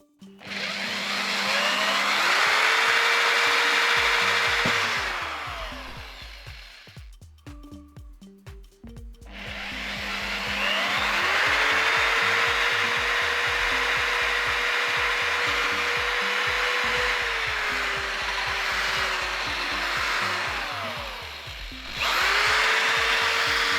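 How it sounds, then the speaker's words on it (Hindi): A power drill bores holes in the casing of a Creative A300 home theater adapter. It whines close and loud in long runs with rising and falling pitch, broken by a short pause filled with clatter before it starts again. "तो मैं ड्रिल मशीन से छेद करूँगा"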